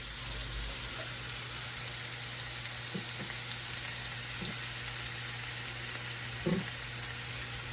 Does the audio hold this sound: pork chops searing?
yes